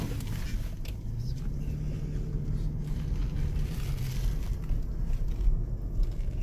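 Steady low engine rumble of a car driving along a village road, a continuous close drone with road noise and no clear speech.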